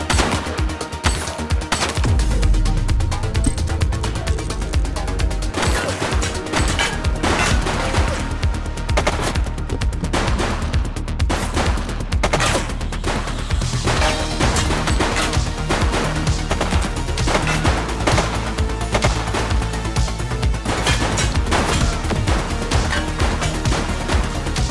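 Dense, sustained gunfire in the police video game The Precinct, with rapid bursts and volleys crackling over a steady backdrop of music and effects, loud and continuous throughout.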